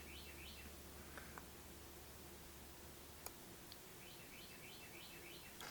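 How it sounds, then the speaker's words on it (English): Small bird chirping outdoors in short repeated bursts of high twittering, fairly faint over a steady background hiss, with a couple of sharp clicks between calls. "Oh my God, where's that bird coming from?"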